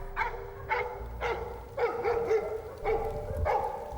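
Polish hound (ogar polski) barking repeatedly at a wild boar in a training enclosure, about six sharp barks in a steady rhythm, close and loud, with no talk.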